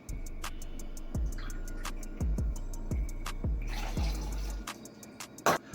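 Cranberry juice is poured into a cocktail while a series of sharp ticks and clinks of glass and ice land in rhythm, followed by a brief splashing pour near the end, close and fairly quiet.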